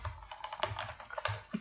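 Keys on a computer keyboard are pressed in quick, uneven bursts of soft clicks and taps, close and fairly quiet, with no talking.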